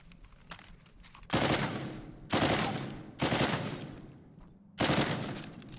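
Loud bursts of automatic gunfire from the video game Uncharted 4: A Thief's End, four sustained volleys each lasting under a second, separated by brief quieter gaps, with no talk.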